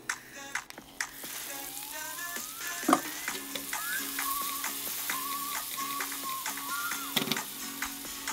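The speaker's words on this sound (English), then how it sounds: "Cover them and fry them together for 5 minutes on a low medium heat." Onions, garlic and tomatoes fry together in a pan over low-medium heat, making a steady soft sizzle with scattered ticks and clinks of a utensil, no one speaking.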